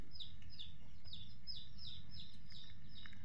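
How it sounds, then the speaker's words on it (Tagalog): Backyard chickens cluck and call in a quick, regular series of short, fairly sharp notes over a low outdoor hum, fairly close and moderately loud, with no talking. "Ingay na ating mga manok."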